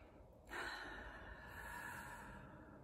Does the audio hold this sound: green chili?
no